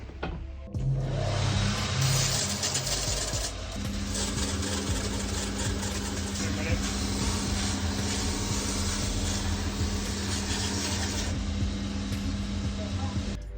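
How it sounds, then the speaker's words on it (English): A power sander grinds away the heel of a Barkers Chelsea boot during a sole repair, a loud, continuous close whir and rasp with a steady tone settling in partway through, running almost without pause. "Right, so we just sanded away the heel round, and there's our sole off."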